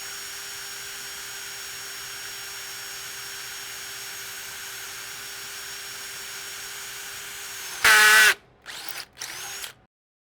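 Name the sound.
drill boring into cast aluminum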